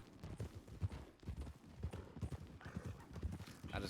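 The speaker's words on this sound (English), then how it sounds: "I think you could probably kick your horse up into a wee bit of a faster gallop without sprinting." Horse hooves gallop in RedM western roleplay, a steady rapid clip-clop of hoofbeats at close range with a faint background wash.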